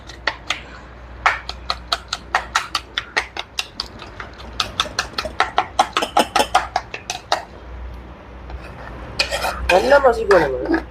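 Boiled okra is mashed into curry in a pot with a utensil, giving a fast, rhythmic run of sharp knocks and scrapes against the metal. The sounds are close and steady, and a voice speaks briefly near the end.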